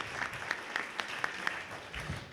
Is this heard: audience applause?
yes